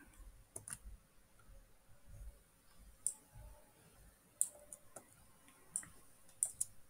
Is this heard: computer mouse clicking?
yes